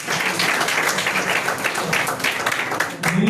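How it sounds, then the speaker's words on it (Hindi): Audience in a school hall clapping at a science academy career guidance session, a dense steady patter of applause filling the whole stretch with murmuring under it, then dipping briefly near the end. "ताली बजा के"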